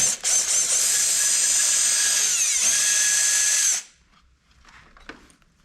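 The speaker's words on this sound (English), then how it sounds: "I'm gonna do that by unscrewing this little screw right here" A power drill with a 5/16 inch hex bit whirs loudly and continuously for several seconds, unscrewing a battery bracket screw on a 2020 Kawasaki Ninja 400, pitch shifting slightly before it stops abruptly, followed by faint handling clicks.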